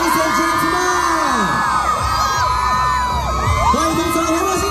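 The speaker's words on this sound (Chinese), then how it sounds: "尖叫声大声一点" Fans scream and cheer at a singer's meet-and-greet event in a Singapore mall, a dense, loud crowd roar of shrill shouts and whoops sustained throughout with no pause.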